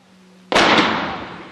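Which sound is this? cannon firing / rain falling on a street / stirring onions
cannon firing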